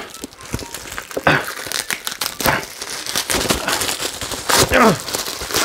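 A taped cardboard box holding a One Piece Luffy manga figure being unboxed, with close, continuous crinkling, rustling and tearing of packaging, with a few sharper rips and no clear talk.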